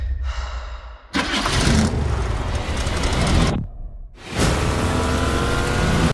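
The Ghostbusters Ecto-1, a classic 1980s car, starts its engine in short loud bursts: a brief crank, then a roaring run, a sudden cut, and a second roaring burst, all close.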